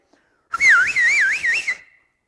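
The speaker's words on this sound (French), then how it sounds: "Peut-être qu'il y en a qui ont sifflé" A single clear whistle warbles up and down in quick wavering loops for about a second and a half, alone against silence.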